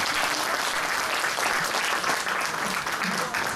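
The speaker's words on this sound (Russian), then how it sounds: "Аплодисменты ваши, дорогие друзья." Audience applause for a singer at a Victory Day concert held by a Kazakh national cultural association in Moscow, a dense, steady wash of clapping from a sizable crowd that stays loud throughout.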